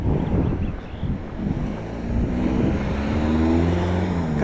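A Volkswagen Beetle passes on a street, its engine hum rising over gusty wind noise on the microphone as it draws near.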